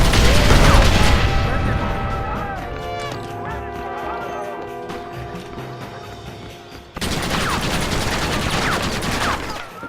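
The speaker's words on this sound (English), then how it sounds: "Use the cannon!" Cannon fire and gunfire in a battle in the Red Dead Redemption video game, with loud blasts and crackling shots over a busy mix of game noise and music, dense at the start, thinning, then surging again near the end.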